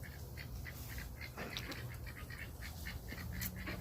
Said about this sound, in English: I got a bunch of ducks over here. They're being mouthy today.